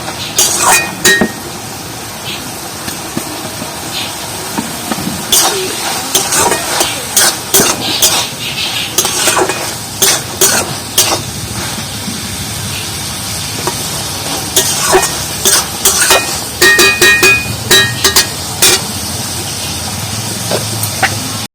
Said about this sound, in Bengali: আর গোটা জিরে এর মধ্যে আমি ভালো করে মিক্স করে নেবো ঘেঁটে